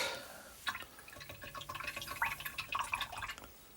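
Paint water being rinsed out with brushes washed during a painting session, giving a run of irregular drips and splashes close by, building in the second half, with no talking.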